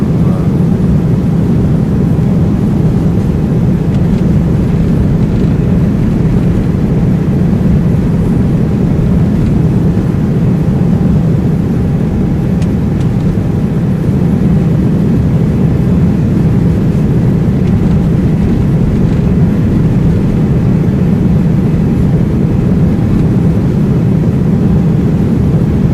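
A ToLiss Airbus A330neo cruises past in X-Plane 12, producing a loud, steady low engine roar that holds constant and unbroken, with no voices.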